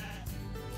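A sheep in a video game gives a single short, clear bleat, close and fairly soft, with nothing else heard over it.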